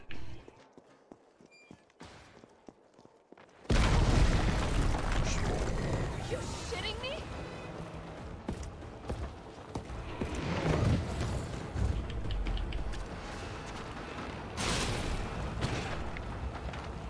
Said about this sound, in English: I could throw a freaking grenade at it.